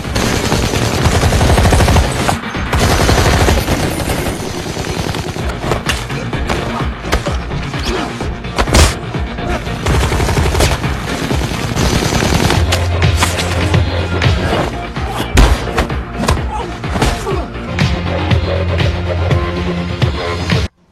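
Loud, dense action-film battle with rapid machine-gun bursts, single gunshots, crashes and thuds of hand-to-hand fighting, continuous and heavily layered with little pause for about twenty seconds.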